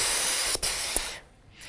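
Breath pushed through a clarinet while the tongue rests on the reed, a steady airy hiss with brief dips as the tongue stops and releases, close and alone.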